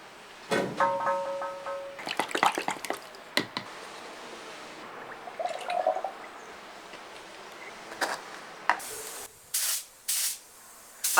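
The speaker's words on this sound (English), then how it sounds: "cover it in a coat of automotive filler etch primer or 1K etch primer" Automotive filler etch primer sprayed from a can onto cast iron parts of a vintage woodworking machine, several short hissing bursts with pauses and some handling noise between, close and fairly quiet.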